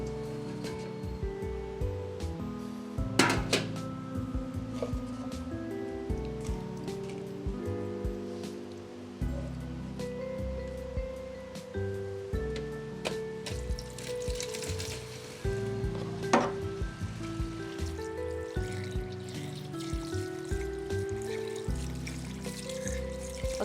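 Excess water draining from washed mutton in a perforated colander, a continuous pattering trickle with faint music-like tones underneath.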